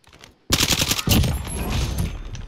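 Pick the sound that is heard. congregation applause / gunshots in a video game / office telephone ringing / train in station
gunshots in a video game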